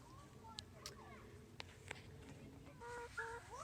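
Soft clucks and chirps of hens in an enclosed coop with roost bars, with a few sharp high peeps and quiet shuffling, steady low background hum.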